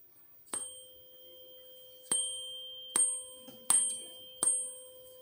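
A short tuning fork is struck five times, each strike a sharp metallic ping followed by a clear ringing tone that fades, quiet and close.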